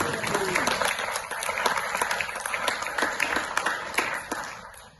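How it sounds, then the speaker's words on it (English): Theatre audience giving a round of applause after an evening performance, with dense, lively clapping swelling and fading over several seconds, close and fairly loud. "So give yourselves a round of applause."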